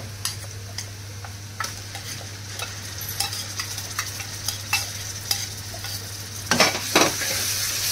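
Browned onion and ground masala paste fry in a pan for a fresh cashew curry, with a steady sizzle and repeated close spoon scrapes and taps as it is stirred, busier toward the end; no talking.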